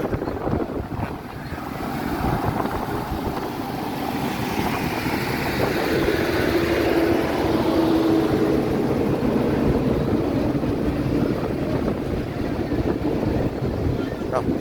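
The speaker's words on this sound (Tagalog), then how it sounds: "Malikot ang barko at malalaki alon." A passenger ship near Matnog Port pitching in big waves, a steady loud rush of wind and water with low hull rumble throughout, and faint voices underneath.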